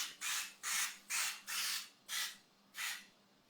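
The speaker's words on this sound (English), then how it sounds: "I'm going to spray it in." Avocado oil cooking spray hissing into a pan in six short, even bursts with brief gaps between them, close and fairly quiet.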